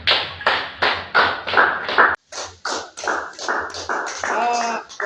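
A church congregation claps for Jesus in loud, regular bursts of hand claps, close and lively, continuing with only a brief gap.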